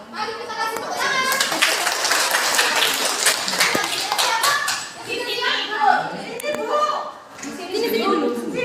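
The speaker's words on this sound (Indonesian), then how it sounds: "Mari kita kasih tepuk tangan." Students in a classroom clap their hands in a lively, uneven round, with children chattering and laughing over and between the claps.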